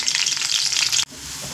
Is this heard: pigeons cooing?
no